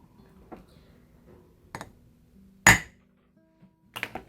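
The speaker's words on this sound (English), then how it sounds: "Let me see if I can hammer just a little harder." A jewelry hammer strikes metal while texturing it, sparse sharp metallic taps with one loud ringing hit and a quick cluster of blows at the end, separated by near silence.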